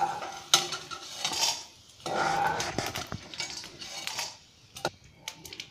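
A metal spoon scrapes and clinks against a pan while lifting fried edible gum pieces out of hot ghee, a close run of irregular taps and scrapes with brief pauses and no speech.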